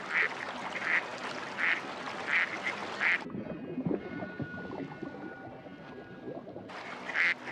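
Ducks quack in a steady repeated series over a bed of splashing water, pause briefly, then resume.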